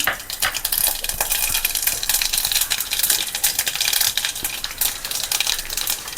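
Mustard seeds and urad dal splutter in hot oil as a tempering for Kerala rasam, a dense, steady crackle of rapid sharp pops at close range with no talking.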